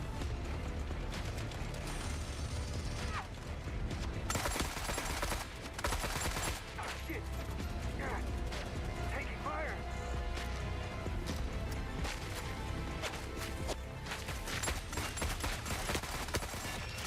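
Sustained gunfire in the shooter game The Forever Winter, loud and dense, with rapid overlapping bursts and shots running almost without pause across the whole stretch.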